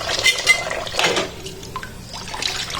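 Tap water running softly into a sink while dishes are washed at home, a close splashing trickle with light clinks of pots and dishes, sometimes louder and then easing off.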